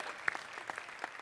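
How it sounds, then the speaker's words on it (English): Brief, quiet applause from a conference audience at a marketing event, a few scattered claps standing out over a soft crowd wash with no speech. "give me a round of applause for just being awesome"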